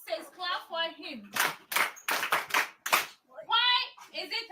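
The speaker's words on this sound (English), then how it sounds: "Clap for him." A class of pupils claps for a classmate in a schoolroom, several short bursts of applause broken by teacher and children talking.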